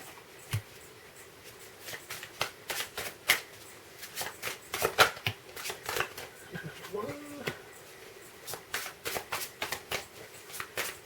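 Playing cards being shuffled in repeated crisp riffling bursts, close by, with occasional quiet speech mixed in.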